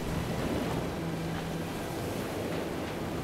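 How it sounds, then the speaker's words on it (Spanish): Stormy sea surf roars steadily with gusting wind, a continuous wash of rough water and no voices. "Allá vienen las olas."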